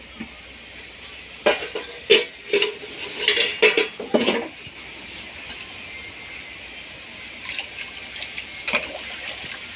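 A spoon clatters and scrapes around a metal pot while sugar is stirred into a traditional sweet drink, a burst of close clanking strokes that fades into soft liquid swirling.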